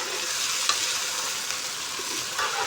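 Chicken frying in a pan with garlic, ginger and spices, a constant loud sizzle with a few soft scrapes of stirring over it; no voices.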